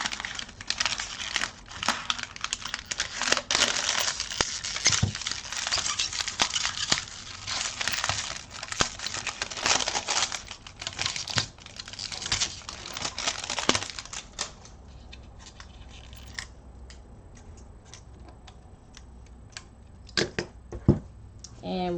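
Plastic shrink wrap being cut and trimmed off the top of a wrapped craft flask, a dense run of crinkling and snipping, then quieter scattered rustles with a few sharp crackles near the end.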